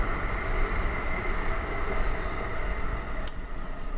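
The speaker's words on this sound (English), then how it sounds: "Hey, train." A train rolls past in a steady loud rumble with rattling wheels on track, holding constant throughout with a brief sharp clank near the end.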